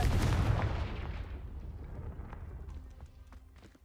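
A Confringo fire spell blast in Hogwarts Legacy, a loud booming burst at the start that decays into a rumbling, crackling tail over a few seconds, with faint sharp impacts near the end.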